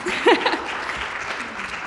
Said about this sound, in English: And yes, applause.